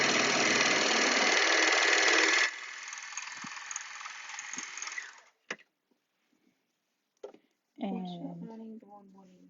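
An overlocker sewing machine runs a seam in a steady, dense mechanical whir that drops in pitch partway through, then stops and leaves a few small handling noises and a brief stretch of talk.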